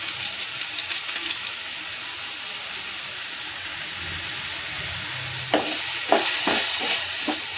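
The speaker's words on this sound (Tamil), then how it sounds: "நல்லா கலந்து விட்டு வதங்க விடலாம்." Prawn thokku masala sautéing in a pan with garam masala and chilli powder, a steady broadband sizzle and fry with several louder stirring scrapes and spatula knocks near the end.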